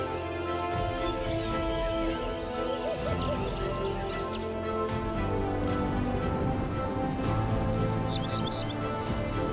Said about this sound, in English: Amid the steady rain at the edge of the forest